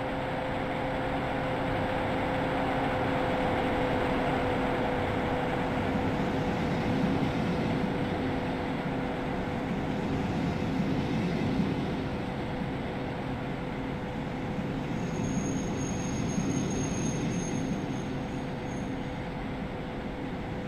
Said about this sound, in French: Et notre train entre en gare.